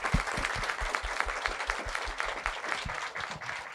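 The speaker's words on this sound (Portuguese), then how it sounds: "por favor, uma salva de palmas" An audience at an architecture conference on ethics and AI gives steady applause, many hands clapping in a brisk, even patter that carries on throughout at moderate volume.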